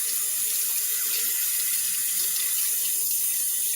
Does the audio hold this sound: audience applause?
no